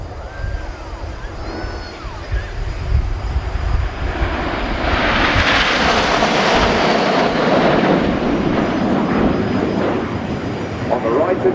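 Red Arrows BAE Hawk jets in a flying display at RIAT, a loud jet roar that swells as the formation passes overhead and then slowly fades.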